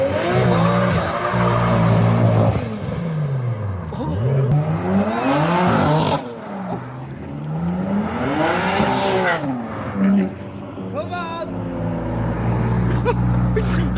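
A Volkswagen GTI accelerates hard at a car meet, its engine rising and falling through several loud revving sweeps that pass close by, with crowd noise and voices underneath.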